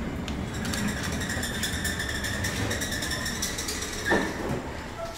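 Westinghouse elevator running in a hospital, a steady mechanical rumble and whir with faint rattling and a brief louder clunk near the end, fairly close and continuous.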